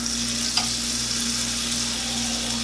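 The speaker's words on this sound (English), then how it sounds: "It has to be melting and sizzling." Butter melting and sizzling in a pan on a stovetop, a steady close hiss with a faint underlying hum and one brief clink near the start.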